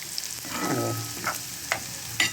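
Pakoda made from leftover bhajji batter sizzles in hot oil with a steady frying hiss, punctuated by a few sharp clinks and scrapes of a ladle stirring nearby.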